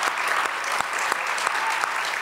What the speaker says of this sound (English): how about a big round of applause to express how much you, you admire Jerry's books?